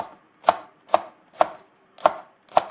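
A knife chops green onion on a cutting board in five crisp, evenly spaced strokes, each a sharp close knock with no talking.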